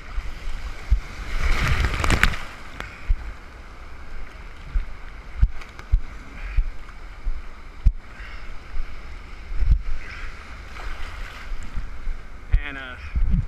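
Ocean surf rolling onto the beach at Galveston Island, a steady broad wash with repeated surges of breaking waves and gusty wind buffeting the microphone throughout.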